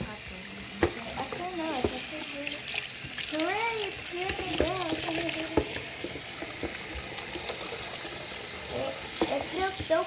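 Hot water runs from a tap into a sink, a steady hiss and splash heard throughout, with a person talking over it intermittently.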